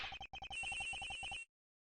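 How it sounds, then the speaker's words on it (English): Telephone ringing in the game Ace Attorney Investigations: a rapid electronic trill of repeated bursts, brief gap, then steady ringing for about a second and a half before cutting off, loud and alone. "I hear the phone going off and I'm trying to find it."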